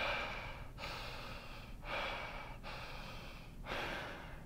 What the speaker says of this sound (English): And people typically breathe through their mouth too. So it's more like, and then a deeper breath would be more like,